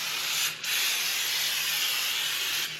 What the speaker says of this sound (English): Once you have your new rotor out, looks like it's the right size, spray it off.